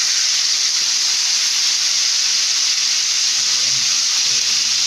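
Chicken pieces fry in hot oil for Korean soju chicken, giving a loud, steady sizzle and crackle that holds evenly throughout with no talking.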